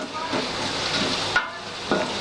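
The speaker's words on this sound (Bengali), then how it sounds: "এবার আমি এগুলো একটু ভালো মতো ভেজে নেব" Onions frying in a pan over medium-high heat for bhuna khichuri, a steady close sizzle with occasional stirring scrapes and two brief clinks.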